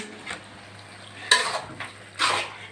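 Cooked spinach chachchari being scooped from a pot into a bowl, a few separate scraping clinks of a utensil against metal, close and moderately loud, with quiet pauses between.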